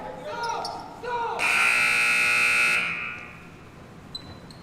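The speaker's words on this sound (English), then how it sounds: "Buzzer again going off." Loud electronic buzzer sounding in a gym at a girls' high school basketball game, one sustained blast of about a second and a half over crowd noise and sneaker squeaks, with a commentator talking.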